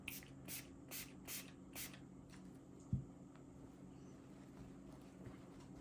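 Five quick hissing bursts of cleaner sprayed onto a Gerber Paraframe knife blade in an even rhythm, close by, followed by quiet with a single soft knock.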